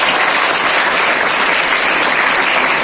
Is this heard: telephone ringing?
no